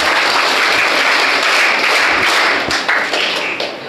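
An audience at a college annual day claps together, a dense burst of applause that swells and then gradually thins toward the end.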